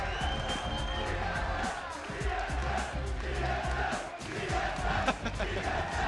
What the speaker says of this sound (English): This entire crowd here completely behind them